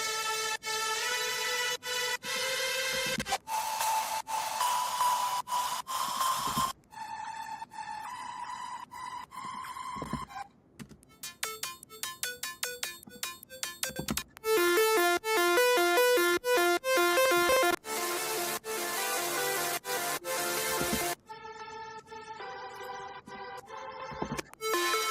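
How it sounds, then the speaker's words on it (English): Several different synth lead sounds play one after another, each a short melodic phrase with its own bright, distinct tone, loud and alone with no talking. "let me just play each lead on its own for a second so you get a sense for how they sound."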